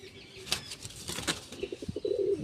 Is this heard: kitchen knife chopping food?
no